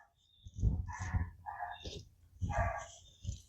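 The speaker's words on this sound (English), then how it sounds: "the dogs out here, they have some problems with something" Dogs bark outdoors at a garden, a handful of sharp barks and yips in irregular bursts, fairly close and moderately loud.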